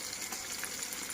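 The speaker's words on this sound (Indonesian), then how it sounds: "Den, goreng-goreng Den." Food frying in a pan during a late-night cooking session after a harvest, a continuous close bubbling, crackling sizzle at a moderate, even level with no talk.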